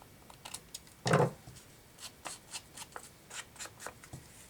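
Scissors trim a protruding edge of paper on a handmade library pocket: a run of short, crisp snips and rustles up close, with one louder crinkle early on and no talking.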